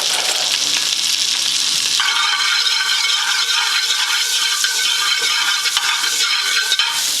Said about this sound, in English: It just says to sear it with butter.